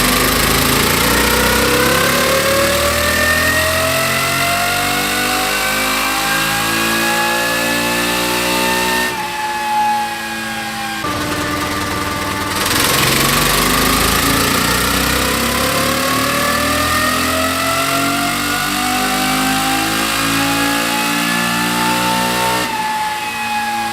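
A Honda XR650 motorcycle engine on a dyno revs steadily at high throttle, its pitch sweeping up and down through two long pulls with a brief dip between, loud and continuous.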